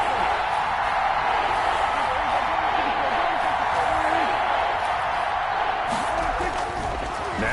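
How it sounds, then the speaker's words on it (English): A football stadium crowd roars steadily at an NFL game ahead of a big third down, a dense, continuous wash of distant cheering and noise under a commentator's voice. "The crowd getting into it as we come up on a big third down."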